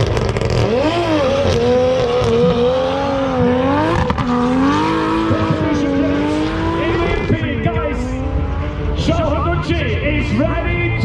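Drift car engine revving hard with rising and falling pitch and tire squeal, loud and continuous, with voices and crowd noise in the background.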